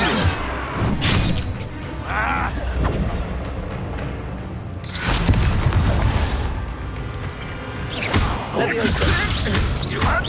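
Several whooshing, crackling bursts as the Incendio fire spell is cast in the Hogwarts Legacy video game, each flaring loudly amid ongoing combat noise.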